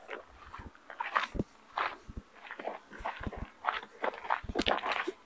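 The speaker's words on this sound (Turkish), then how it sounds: "Köpekler de var burada bayağı bir" Dogs move about close by on a chicken farm, with soft yips, snuffles and scuffling paws in uneven bursts against a faint background hiss.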